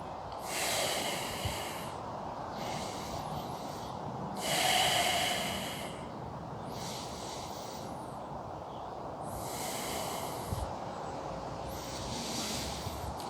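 Slow, deep breaths during a yoga session rise and fall in a steady rhythm of long inhales and exhales, close and clear, with no talking.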